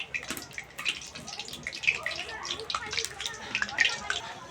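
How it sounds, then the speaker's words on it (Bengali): Small potatoes mixed by hand with salt, Kashmiri chili and a little water, a wet squelching and splashing close by, with a voice talking over it. "এবার খুব ভালো করে অল্প অল্প জল দিয়ে মাখিয়ে নেব।"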